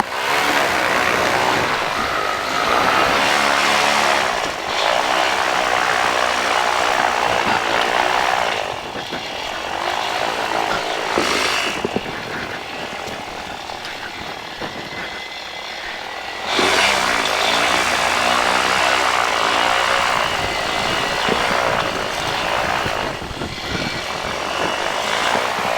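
The engine of a flex wing microlight runs during a pre-flight power check, a loud, steady buzzing drone that swells and eases as the throttle changes, close and continuous for the whole stretch with no talking.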